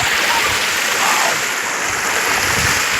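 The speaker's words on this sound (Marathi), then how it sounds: "आता मी त्या नदीमध्ये उभा आहे" River water flowing as people wade through it, a steady broad rush of water close by with faint splashing.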